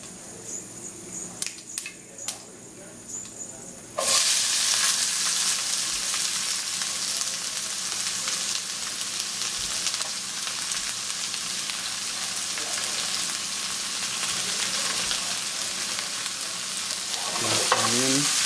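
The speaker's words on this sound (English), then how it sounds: "After that, we add the onion, sliced onion." Sliced onion dropped into hot oil with popped cumin and mustard seeds sizzles loudly and steadily, a dense frying hiss after a few seconds of quieter crackling, with a stir near the end.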